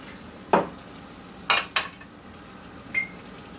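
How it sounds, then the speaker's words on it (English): Dishes being washed in a kitchen sink, with four separate clinks of crockery or utensils knocking together over quiet background noise. "So I'm going to finish washing these dishes, taking care of these dishes."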